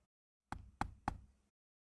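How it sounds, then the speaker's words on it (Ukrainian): Three evenly spaced, solid knocks on a door, close by and crisp, standing alone against silence. "У двері раптом постукали."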